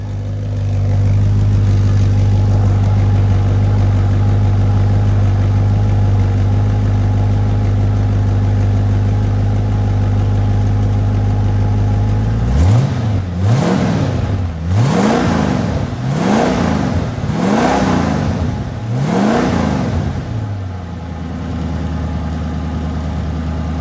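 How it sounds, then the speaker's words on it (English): A 1966 Ford Mustang GT V8 with stock dual exhaust idles with a low, steady burble, then revs up and down five times in rising and falling surges before settling back to idle. "Just a real stock tone from the dual exhaust."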